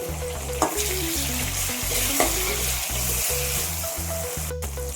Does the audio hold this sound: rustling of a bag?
no